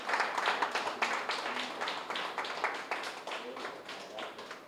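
An audience at a spiritual gathering claps loudly for Patriji and Patri Madam, a continuous patter of many hands with a voice speaking over it throughout.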